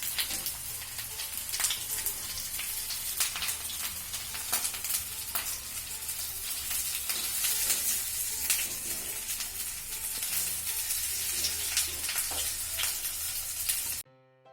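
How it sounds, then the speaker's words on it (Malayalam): Marinated chicken pieces for restaurant-style Chicken Afghani fry in a pan with a steady, dense sizzle and crackle, loud and close throughout, with no talking. "നമ്മൾ ആദ്യത്തെ ബാച്ച് ഫ്രൈ ചെയ്ത് ഇതുപോലെ ബാക്കി പീസും ഫ്രൈ ചെയ്തെടുക്കാം"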